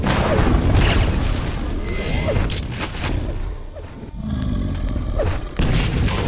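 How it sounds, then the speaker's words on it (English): Rocket blasts and weapon fire in a Quake Live duel match, a dense run of loud booming explosions and rapid shots layered over one another for several seconds. "Nice rocket right there"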